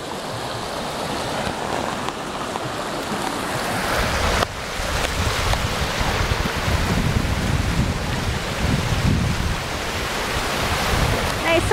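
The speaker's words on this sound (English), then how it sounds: "Nice little waterfall." A small waterfall at Kerosene Creek hot spring in New Zealand's North Island pours with a steady broadband rush of water, close and continuous, with gusts of wind buffeting the microphone.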